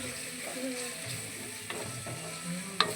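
Ginger and garlic fry in oil for a chutney, a soft steady sizzle with occasional light clinks and scrapes of a spoon against the pan.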